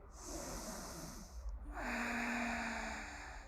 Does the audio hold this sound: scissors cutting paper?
no